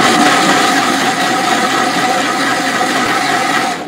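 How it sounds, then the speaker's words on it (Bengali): A blender whirs steadily, loud and close, through a biscuit ice cream mixture with a splash of milk, holding a continuous motor drone for nearly four seconds before tapering off at the end. "এরপর ভালো করে আবারও ব্লেন্ড করে নিচ্ছি।"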